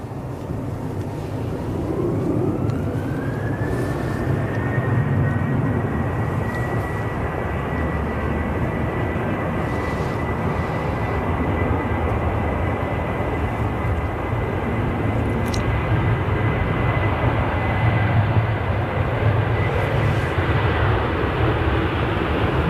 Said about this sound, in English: Okay, so we've got this Ryanair. It looks like it's going to turn and burn.